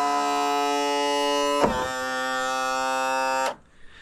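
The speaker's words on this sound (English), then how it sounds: "Now we'll trim our motor up" Electric power trim raising a Suzuki outboard motor, a steady whining electric motor hum that shifts pitch partway through, then cuts off abruptly, close and loud.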